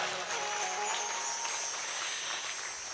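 Loud, sustained clapping from a village audience at a religious discourse, a thick even wash of applause that continues without a break.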